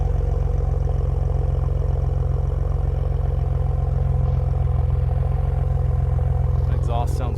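A Ford Bronco with a Roush air induction system idles steadily, its exhaust giving a deep, even low rumble that stays constant and close, with a brief bit of talk near the end.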